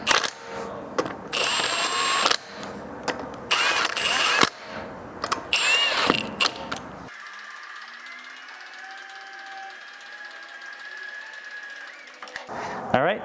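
Lug nuts on an Audi A4 B8 wheel being spun on with a powered tool, in loud whirring bursts of a few seconds each, followed by a quieter steady mechanical hum.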